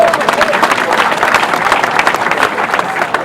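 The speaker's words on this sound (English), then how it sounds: "I want all of us to clap for Senator John Owan Enoh." Crowd clapping for Senator John Owan Enoh at a UKALU hosting event, loud continuous applause from many hands with a few voices under it, sustained through the clip.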